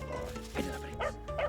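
Hunting dogs on a driven wild boar hunt in Croatia give a few short, moderately close barks and yips over background noise, with a muffled voice faintly in the mix.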